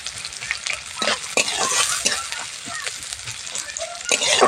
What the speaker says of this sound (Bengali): দিয়ে দেবো কেটে রাখা পেঁয়াজ। খুব ভালোভাবে এটাকেও ভেজে নেব।